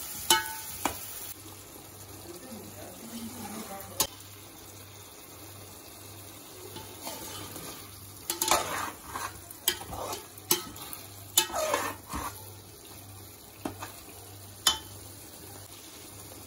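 Chicken fries in oil in a pot for Hyderabadi dum biryani, a soft steady sizzle with intermittent scraping stirs of a spoon, quiet and close with no talking.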